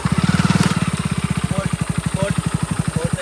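A motorbike engine runs close by with a steady, rapid low thumping pulse that holds throughout, with no talk over it.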